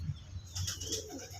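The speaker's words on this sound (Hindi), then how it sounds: "ये देखो कबूतर उड़ा रहे हैं" Pigeons take off and fly in a flurry of flapping wings, a soft, close whirring of wingbeats lasting just over a second with faint bird sounds mixed in.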